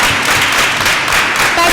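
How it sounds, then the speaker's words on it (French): Crowd applause at a Women's Day celebration in Allada, loud dense clapping from an audience in a brief burst. "Est-ce qu'on peut entendre vos applaudissements"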